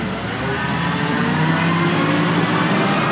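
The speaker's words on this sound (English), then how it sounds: "Looks like I got the trash truck behind me." Garbage truck idling and rumbling steadily just behind the listener in a shopping centre parking area, a loud continuous broadband engine drone with no speech over it.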